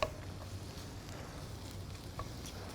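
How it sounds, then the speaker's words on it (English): Garlic sizzles as it is sautéed in a pan, a steady soft crackling hiss with small pops, close and fairly quiet, with no talking. "You can hear that sizzle."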